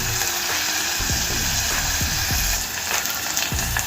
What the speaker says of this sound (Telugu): దీన్ని 1 నిమిషం పాటు వేయించుకోవాలండి